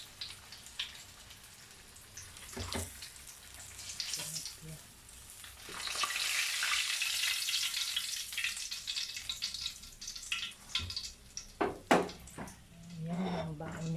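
Fish sizzles as it fries in a pan, a soft hiss that builds and holds in the middle, broken by sharp clinks and spatters, fairly quiet overall with occasional voices nearby.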